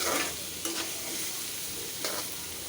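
Pieces of patta fish being mixed by hand with turmeric, chilli, coriander, ginger and garlic paste and oil in a bowl, giving soft wet squelching and stirring sounds in short bursts, close and fairly steady.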